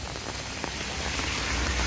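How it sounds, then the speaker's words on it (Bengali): Heavy rain falls steadily on a cold winter morning in late December, a dense, even hiss of drops on surfaces that stays close and constant throughout, with no voices. "আর বৃষ্টি আজকের কমবে বলে তো মনেই হচ্ছে না, এত বৃষ্টি হচ্ছে।"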